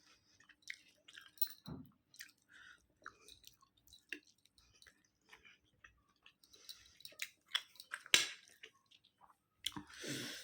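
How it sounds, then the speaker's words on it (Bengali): Close, quiet wet chewing and small squishy mouth sounds of someone eating hot rice, irregular bites with soft clicks and pauses between them. "তো খেয়ে নিই, ভাত একেবারে গরম।"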